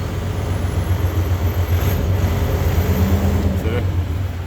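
A 2007 Freightliner truck's rebuilt Detroit 14L EGR diesel engine runs loud and close, holding a steady, deep droning rumble throughout.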